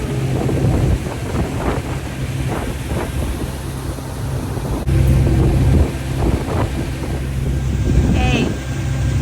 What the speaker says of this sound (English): We're gonna enjoy a boat ride here